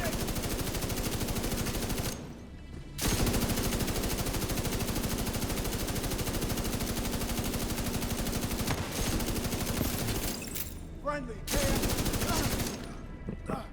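Sustained automatic gunfire in the shooter The Division 2, a dense, loud stream of rapid shots that runs for long stretches, broken by two short pauses.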